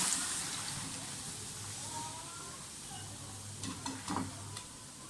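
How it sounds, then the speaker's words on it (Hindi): Cauliflower added to chicken masala frying in a pan gives a soft, steady sizzle with a few scraping stirs near the end, quiet and close with no talk. "अब साथ ही मैं इसमें गोभी डाल दूंगी।"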